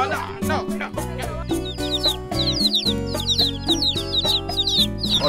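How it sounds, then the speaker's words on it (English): Several chickens cluck and squawk close by in a busy, overlapping chorus, with sharp repeated calls throughout. "Our chickens are here, so we can start shooting now."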